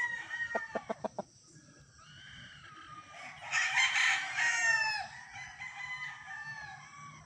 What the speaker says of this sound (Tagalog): ito Esculin Boston Roundhead